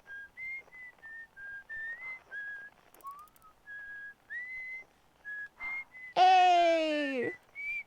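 A character whistling in the video game Outer Wilds: a string of clear, short tonal whistle notes rising and falling in a casual tune, followed by a louder, harmonically rich sustained tone near the end.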